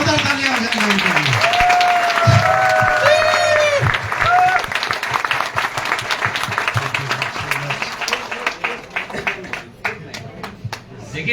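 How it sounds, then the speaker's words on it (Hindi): A crowd at a Modicare testimonial event bursts into clapping after some voices and tonal sounds at the start. The applause swells to a full, dense patter, then thins into scattered, fading claps. "एक बार जोरदार तालियां हो जाए उनके लिए।"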